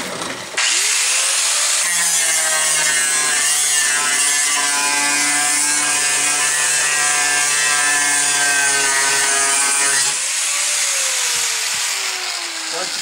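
A grinder works a weld seam on the lower door skin of a 1997 Chevy, giving a loud, steady, high-pitched metallic whine that holds for about nine seconds before spinning down.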